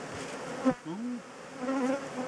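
Close, steady buzzing of honeybees at an apiary, with individual bees droning past and shifting in pitch.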